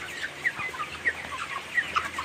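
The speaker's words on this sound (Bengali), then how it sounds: "আমার মুরগিগুলো কিন্তু মোটামুটি ভালোই বড় হয়েছে" Soft, repeated clucking from a group of broiler chickens nearby, steady low murmurs with occasional brighter calls over a quiet background.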